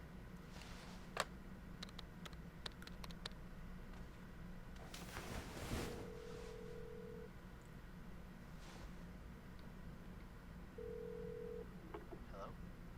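A telephone is used in the video game Life is Strange 2: faint handset clicks, then steady dial tones sound twice at low level over a quiet background hum, with occasional talking.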